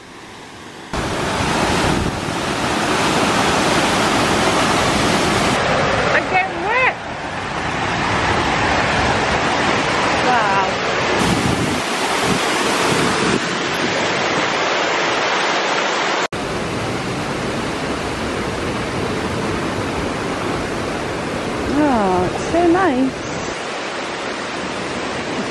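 A waterfall in Wales roars as a steady, loud, broad rush of falling water. It continues for the whole stretch with brief dips and shifts, as if the recorder is moving, and there is no talk.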